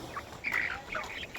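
A chicken being chased and caught lets out a few quiet, squawking cries, the loudest burst in the middle, heard from a short distance.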